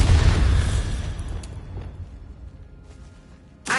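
A Bombarda spell explosion in Hogwarts Legacy opens with a loud, deep boom that rumbles and fades over several seconds. A second sharp burst hits just before the end.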